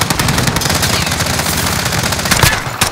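In Call of Duty: Modern Warfare, rapid bursts of automatic gunfire rattle almost continuously, dense and loud, with a couple of sharper shots near the end.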